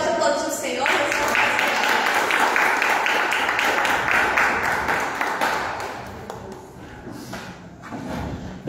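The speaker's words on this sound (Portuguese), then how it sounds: "Você pode aplaudir o Senhor." Church congregation applauding the Lord during an evening worship service, a dense wash of clapping that swells for several seconds, then thins and fades toward the end.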